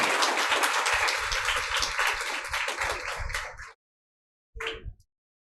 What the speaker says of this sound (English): Can we have a big round of applause for ma'am?